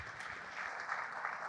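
Audience applause at a cybersecurity summit talk, a steady wash of many hands clapping at moderate level, continuous and even throughout the short stretch with no talk over it.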